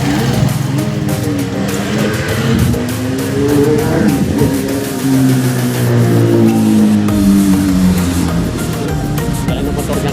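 A big motorcycle revs loudly nearby on a street in Concepcion, Malabon City, its engine note rising and falling continuously amid traffic and crowd noise, with a voice calling out briefly.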